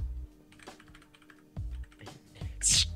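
Quick bursts of typing on a computer keyboard, with clattering runs of keystrokes separated by short pauses. The typing is close and distinct and comes with a low hum in the background.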